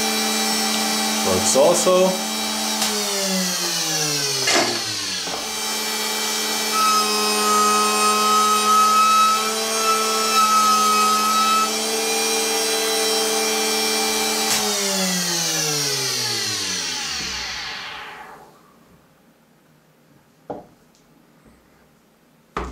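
A chamfering machine milling a chamfer on a piece of PEEK plastic gives a high whining tone that runs steadily with short cutting changes, then spins down and stops, with brief speech over it.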